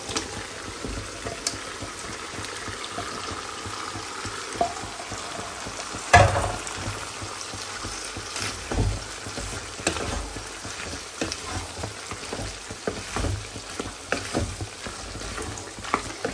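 Pieces of liver sizzle and crackle steadily in a hot pan of oil, a continuous close frying hiss broken by occasional stirring scrapes and a sharp clatter, with no one talking.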